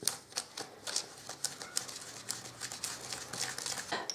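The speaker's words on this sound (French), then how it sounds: "j'ai fini de touiller la petite poudre avec l'eau" Candy powder from a Japanese candy kit being stirred into water in a small tray, making quick, close scraping and tapping clicks in an irregular rhythm, faint and alone without talk.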